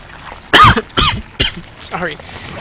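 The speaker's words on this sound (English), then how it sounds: "I really do apologize for the coughing" Four separate harsh coughs with short gaps, close and fairly loud, from a person playing a StarCraft 2 beta match, the last one weaker and breathier.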